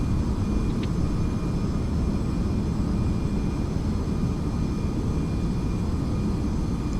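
Steady, broadband drone of an aircraft engine in Microsoft Flight Simulator FSX, a plane turning onto base approach near Craig Airport, droning loud and unbroken throughout with no talk.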